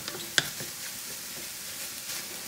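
Raw ground beef browning in a pan for cheesy goulash, giving a soft steady sizzle with a few faint scrapes of stirring and one brief clink near the start, quiet and close with no voices.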